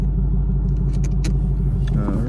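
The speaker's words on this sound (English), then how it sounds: "we'll just let it idle for a minute or 2" A tuned Ford Mustang GT V8 idling, with a loud, steady low rumble close by and a few faint clicks and rattles over it.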